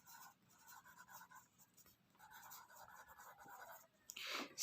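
Close, quiet scratching of a pen or pencil writing by hand in a classroom French grammar lesson, in a few short strokes and pauses, ending with a louder brush or rustle.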